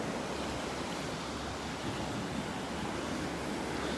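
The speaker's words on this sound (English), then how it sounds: "I'm just going to let you listen to the waves for another minute here before signing off." Ocean surf rolls onto a beach in North Naples, Florida as a dense, steady wash of breaking waves, close and continuous with no voices.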